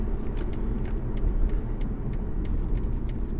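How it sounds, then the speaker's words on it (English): A 2020 BMW 520d estate engine hums steadily with low rumble under acceleration, a constant drone filling the clip with no clear rise or pause. "if I put my foot down now, it's like it comes in and then you kind of feel the boost come in"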